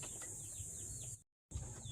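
Clucks from a mother hen returning home, set against a steady high insect-like hiss and low rumble, with a brief dropout partway through.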